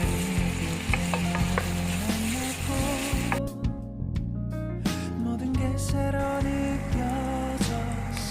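Green chillies and onion frying in a pan for Andhra-style pappu make a busy, close sizzle with repeated stirring scrapes and clatters throughout, briefly quieter midway and then picking up again.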